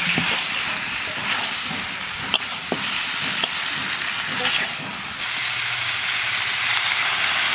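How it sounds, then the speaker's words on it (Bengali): Potatoes and cauliflower frying in spiced masala for a fish and winter cauliflower curry, a loud, steady sizzle and hiss with occasional stirring clinks, dropping to a softer bubbling hiss partway through. "এইবার দিয়ে দেবো আলু আর ফুলকপি।"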